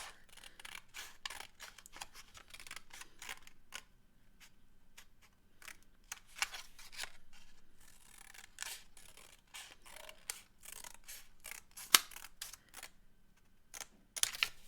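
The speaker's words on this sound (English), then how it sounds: "I'm going to cut right along this line and only cut up to right there." Scissors snip along a marked line on a wolf puppet: a rapid, close series of crisp cuts with short pauses between runs of snips and one sharper click near the end.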